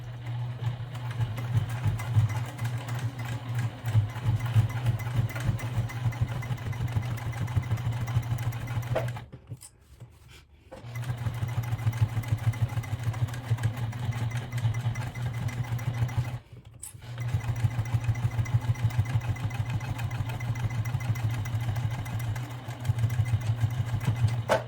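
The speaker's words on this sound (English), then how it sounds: "we're going to take it to the sewing machine and stitch across" A sewing machine stitches across a fabric bag in a steady, rapid mechanical hum with clattering needle beats, pausing twice briefly before resuming, close and continuous with no speech.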